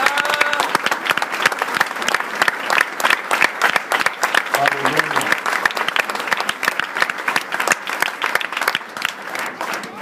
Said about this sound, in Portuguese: Aplauda forte a Jesus.